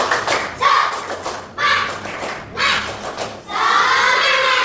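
Schoolchildren do the rhythmic 'tepuk semangat' spirit clap in a classroom, sounding as three or four loud bursts of clapping and shouting separated by short pauses.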